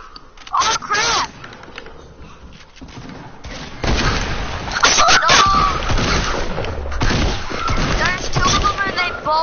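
Loud, close shotgun blasts and other gunfire from a Fortnite squad match crack in bursts, under excited voices talking and shouting.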